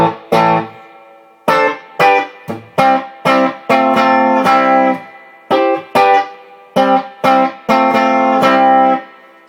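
Clean electric guitar tone from a Beck Esquire through a tube pedal, short chords and picked notes, bright and crisp with quick gaps between phrases, no voice.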